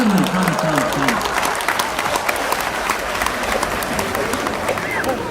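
A crowd at a Holi comic poetry gathering (kavi sammelan) claps loudly and continuously, with a brief voice at the start before the applause fills everything.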